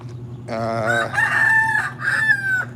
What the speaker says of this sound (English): Now I got a rooster over here, though.